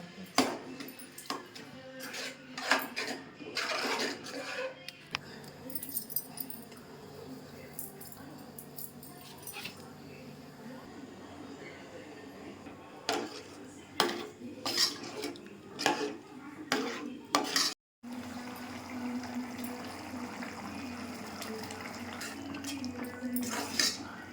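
Metal utensils scrape and clink against a pot of thick dried-fish curry in irregular bursts, with quieter simmering and bubbling between the stirs.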